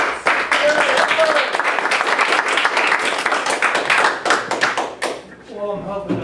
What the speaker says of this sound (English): Let's give a round warm of applause for Robert Oates.